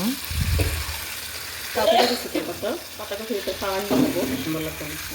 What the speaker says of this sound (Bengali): এখন সব কিছু একসাথে মিশিয়ে আমি বেশ কিছুক্ষণ তরকারিটা কষিয়ে নেব